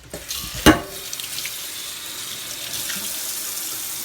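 Water runs steadily from a tap into a sink, rinsing out a blender, with a brief clatter early on and a continuous splashing rush throughout.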